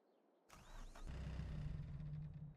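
A tractor engine in Farming Simulator 22 sputters, with a brief whine and rattle before settling into a steady low rumble that continues to the end.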